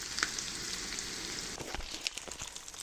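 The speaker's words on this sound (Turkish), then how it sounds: "Gördüğünüz gibi kavurmaya devam ediyorum." Peppers sautéing in a pan give off a soft, quiet sizzle with faint crackles and light stirring scrapes, steady and fairly close.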